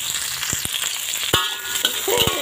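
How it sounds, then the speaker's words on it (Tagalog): Okra quick-frying in a pan at home, giving a steady oily sizzle with a few sharp clacks of a utensil stirring against the pan, close and fairly loud throughout. "Ano lang to guys, quick fry lang to kasi para hindi malanta yung okra."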